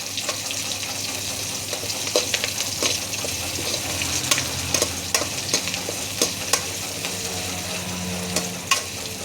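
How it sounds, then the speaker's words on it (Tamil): Crushed garlic sizzles and fries in a hot pan with a steady crackle, punctuated by scraping stirs of a utensil, close and without speech. "அதுவும் நான் போட்டு நல்லா ஃப்ரை பண்ணிடலாம்"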